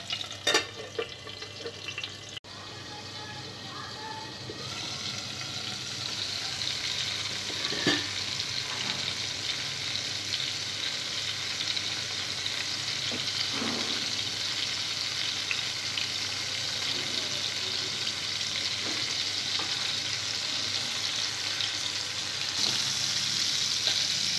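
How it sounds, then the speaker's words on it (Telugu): Tomato and onion cooking in oil in a covered pan give a steady, even hiss and bubbling that runs continuously, with a few faint clinks and no voices. "టమాటో ఉల్లిపాయ ఆయిల్లో వేసిన తర్వాత మూత పెట్టి వీటిని బాగా ఆయిల్లో ఉడకనివ్వాలి"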